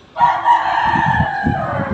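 A fighting rooster crows once in a long, sustained call, loud and close, with faint low thumps and rustling underneath.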